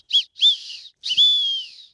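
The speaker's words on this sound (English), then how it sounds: "Feels like more of an animal call than a distress whistle" A small plastic whistle from a cheap survival kit is blown three times, two short shrill toots and then a longer wavering blast, high-pitched and close, with no voices.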